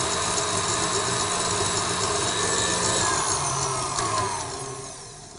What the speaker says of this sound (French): On la verse dans le robot. Vitesse maximum, ça se fait en quelques secondes.